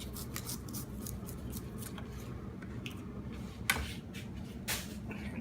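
A knife cuts off the tough base of a head of cabbage for kimchi, giving a series of close, crisp crunches and snaps over a low background hum.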